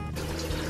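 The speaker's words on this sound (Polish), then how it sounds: "po odcedzeniu szybciutko trzeba przelać zimną wodą" Cold tap water runs steadily over freshly cooked noodles for Korean janchi guksu, a brief, close, continuous splashing trickle with no voices.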